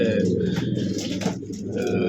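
Racing pigeons coo softly and continuously in an old racing loft, a dense low murmur of overlapping calls filling the space with steady ambient chatter.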